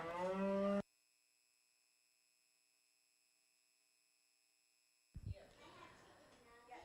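A cow moos loudly and close at a beef breeding show, a deep sustained call in the opening second, followed by a long stretch of near silence with a steady faint hum before crowd noise and talk return.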